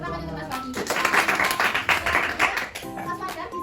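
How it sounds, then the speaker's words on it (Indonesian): An elementary school classroom breaks into a couple of seconds of brisk clapping for a student, with a voice talking just before it starts and again as it dies away. "Tepuk tangan untuk Mas Bobi."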